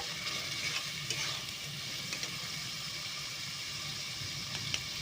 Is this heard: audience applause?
no